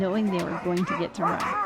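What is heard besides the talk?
huskies barking at a husky farm in Lapland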